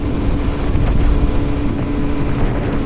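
A group of TVS Apache RTR motorcycles rides along on an Independence Day trip toward Zarwani Waterfall, their engines a steady, close drone heavily buffeted by wind roar across the microphone.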